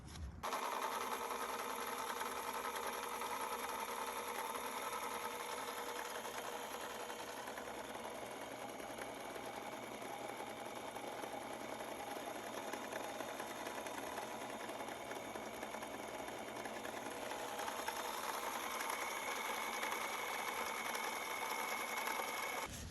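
A Whirlpool washing machine in its spin cycle after a shift actuator and belt repair, with a capacitor hooked up: a continuous steady whirring hum with a faint rattle, unbroken for over twenty seconds and no talking.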